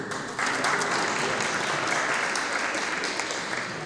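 Concert audience at a native-language day celebration claps together, the applause swelling in abruptly after a short pause and continuing as an even, dense patter to the end.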